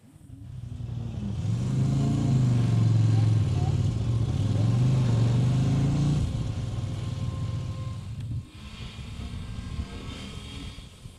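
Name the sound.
CFMOTO motorcycle riding on a trail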